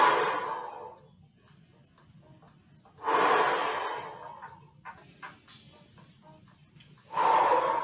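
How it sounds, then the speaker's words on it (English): Slow, deep breaths during an exercise session, with strong audible exhales at the start, middle and end and quieter gaps between them. "Nice deep breaths in this time."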